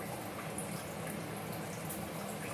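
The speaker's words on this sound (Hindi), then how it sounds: "अब इस मैं इसे ठंडे पानी से धो लूँगी।" Cold water runs from a tap over a head of cauliflower in a home kitchen sink, a steady, close, continuous splashing hiss with no voices.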